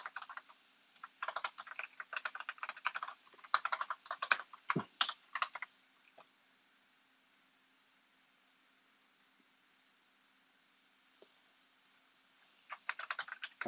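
Computer keyboard typed on while writing code, bursts of quick, close, light key clicks for several seconds, then near silence with a stray tap, before another short burst of typing.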